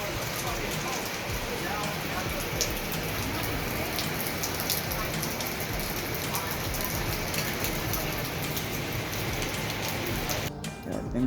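Steady rain falls continuously on surfaces outdoors during a bathroom renovation, a dense even patter that holds throughout with no other clear sounds.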